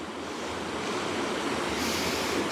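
River rapids and a waterfall heard from a distance as a dense, continuous roar of rushing water, steady and loud with no voices.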